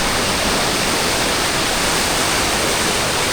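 Keralamkundu waterfall in Malappuram roars as a steady, loud, broadband rush of falling water, unbroken and continuous, with no voices.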